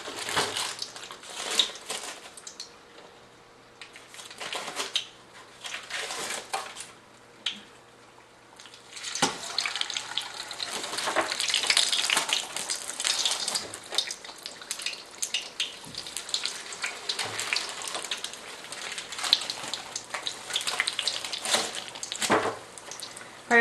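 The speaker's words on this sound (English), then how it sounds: "Okay, so we're ready to fry. The oil is hot. Frozen empanada." A frozen chicken empanada frying in hot oil, Guam style: a loud, continuous crackling sizzle with bursts of bubbling, close up and running throughout, with no talking.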